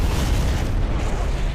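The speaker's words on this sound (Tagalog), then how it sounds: "natamaan nila ang mga mina at nagkaroon ng malakas na pagsabog" A heavy explosion bursts as attacking vehicles drive onto mines in a Rambo action film, a loud, sustained booming roar with no pause.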